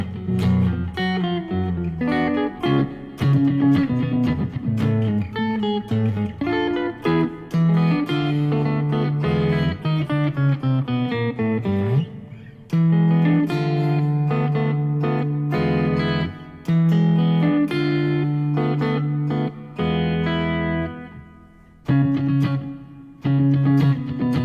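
Solo guitar plays an arrangement of The Stars and Stripes Forever at full speed, busy and continuous with a bouncing bass line under quick melody notes, loud and close, with a brief dip near the end.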